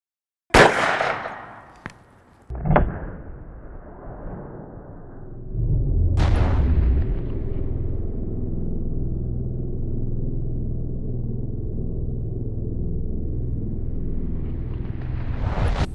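A rifle chambered in 300 HAM'R fires a Hot-Cor projectile as one sharp, loud crack near the start, followed by a few clicks and then a sustained low rumbling roar.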